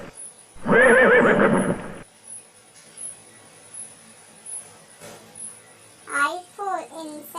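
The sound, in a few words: horse neighing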